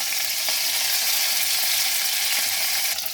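Green chili and nigella seeds sizzling in hot oil, a loud, steady, close hiss of frying that holds at the same level throughout with faint stirring knocks in the pan.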